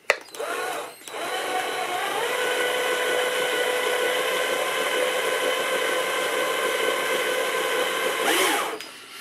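A Black & Decker power tool runs on an open Hohner keyboard during a sticking-key repair, a loud steady whine lasting several seconds after a brief start, then winding down.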